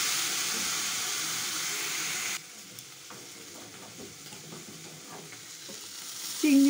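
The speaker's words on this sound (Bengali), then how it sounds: "চিংড়ি মাছটা ভাজা হয়ে গেল।" Shrimp seasoned with salt and turmeric frying in a wok, a loud hissing sizzle for the first couple of seconds, then a quieter crackle with faint stirring.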